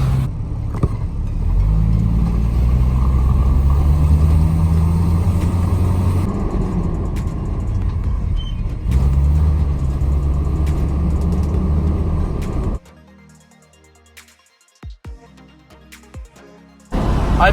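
A 2002 Subaru WRX wagon driving through rush hour traffic, with a steady loud engine and road rumble for about 13 seconds before it drops abruptly to quieter cabin noise with a few sharp clicks.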